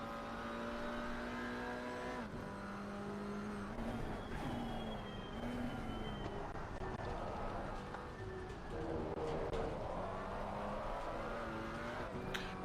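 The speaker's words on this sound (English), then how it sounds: "You can kind of hear the traction control kicking in." A GT4 race car at Zandvoort in the Assetto Corsa Competizione video game: the engine drone rises and falls through gear changes, with stuttering cuts in the revs as traction control kicks in. Continuous and fairly close.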